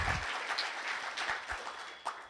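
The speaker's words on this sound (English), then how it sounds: "let's give them a round of applause for the work that they've done" An audience at an MK Party induction workshop for appointed leaders claps in a round of applause, a moderate wash of many hands that gradually thins out over a couple of seconds.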